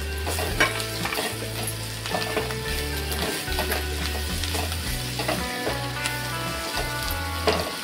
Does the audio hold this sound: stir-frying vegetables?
yes